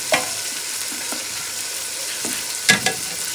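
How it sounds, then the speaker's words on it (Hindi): Onions brown in a pan for a salan curry, a steady close hiss of frying oil with occasional scraping stirs, no voices. "प्याज ब्राउन कर रही है"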